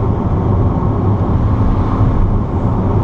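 A Lifan 530 car's engine droning steadily while driving downhill, a loud, dense low rumble with road noise that holds constant throughout with no voices.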